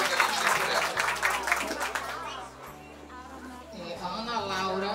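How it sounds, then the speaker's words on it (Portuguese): Guests at a 70th birthday party clap in a sustained burst of applause, with a voice talking over it and music playing underneath. "Vou pedir agora mais uma salva de palmas com vontade, com força para a aniversariante"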